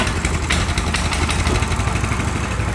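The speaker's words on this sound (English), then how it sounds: "Let's see if I can get it started on the first pull here." Coleman CT200U minibike's small engine running steadily after a pull start, a continuous close rumble with a rapid regular beat and no voices.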